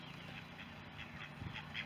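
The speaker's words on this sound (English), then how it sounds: "Have a couple ducks here." Homestead ducks quack in a few short, moderately loud bursts against a steady outdoor background.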